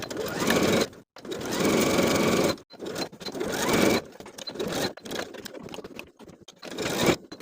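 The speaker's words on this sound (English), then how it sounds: "Sew the waistband to the top of the pant all the way from center front to center front with a 1/2 inch seam allowance." A sewing machine stitches a waistband onto the top of lined cigarette pants with a half-inch seam, running in several loud bursts with brief pauses between them and no talking.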